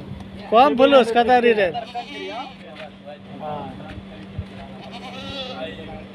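A goat bought for the Dasai festival gives a loud, wavering bleat up close, followed by quieter background chatter and a steady hum.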